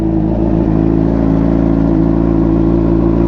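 A Suzuki Gixxer motorcycle with a slip-on Two Brothers exhaust runs close by, its engine giving a loud, steady throaty drone with a slight rise and no talk over it.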